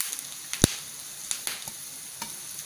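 Garlic and curry leaves hit hot oil for a tadka, giving a quiet, steady sizzle broken by a few sharp pops and crackles, close by with no talk over it.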